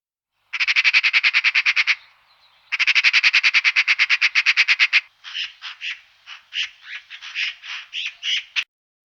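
Magpie calls come as rapid, harsh chattering rattles in two long bursts, then shorter, broken squawking phrases, clear and close with no other sound.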